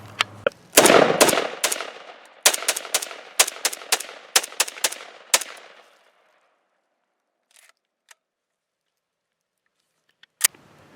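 Rapid bursts of gunfire from a SIG 551-2 rifle during test shooting, loud sharp reports in quick succession for several seconds, then a few isolated distant shots after a pause.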